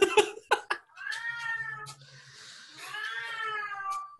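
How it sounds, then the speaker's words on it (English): A cat gives two long, drawn-out wailing meows that sound like a crying child, close and clear after a few short bumps at the start. "For new listeners, that's not a small child crying for help. It's a cat."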